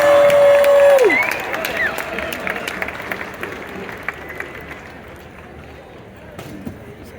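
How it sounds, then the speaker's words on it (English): A protest crowd at an outdoor rally in Boise, Idaho applauds and cheers. The mixed clapping and distant crowd noise start loud and fade to a lower, scattered wash. A brief whistle-like tone sounds near the start. "Give a big round of applause."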